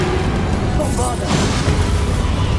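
Bombarda blast spell from the Hogwarts Legacy video game, a muffled booming explosion with a bright crackling burst in the middle of a loud, continuous combat din, with voices speaking.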